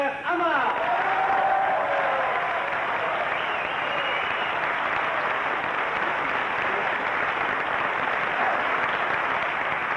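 A comedy audience at a Moroccan Jewish humour show gives a comedian sustained, dense applause that holds steady for the full stretch, with a voice faintly heard at the start.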